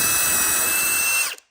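A power drill whines steadily at high speed as it bores through shelf boards, loud and close, then spins down and stops near the end.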